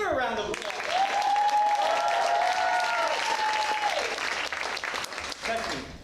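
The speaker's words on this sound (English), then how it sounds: "Give her a round of applause." Loud, sustained applause from a theatre audience for a performer in a one-person show, a dense wash of clapping with a sung or held tone rising over it before fading.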